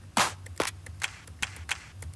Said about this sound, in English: So let's look for a couple of claps.